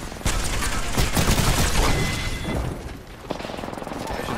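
Gunfire in the battle royale game Apex Legends fills the clip with loud, rapid bursts of close shots and sharp cracks, then a short pause and a second cluster of crackling shots, with a voice speaking briefly underneath.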